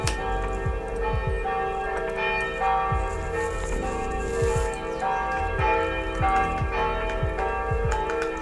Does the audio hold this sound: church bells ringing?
yes